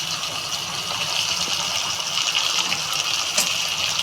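Water gushes steadily into a pan of fish curry with flat beans and eggplant, a close, continuous pouring splash lasting a few seconds without any talk.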